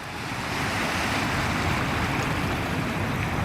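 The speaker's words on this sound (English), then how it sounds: "here come the powerful waves" Sea waves from the wake of a distant passing boat break on the shore near Lisbon, a broad, loud, continuous surf wash rising slightly and holding steady, with wind hiss and no voices.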